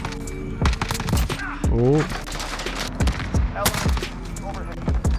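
Fast gunfire from a gun in Modern Warfare, loud sharp shots in quick irregular bursts close up, with a player's voice and exclamations in between.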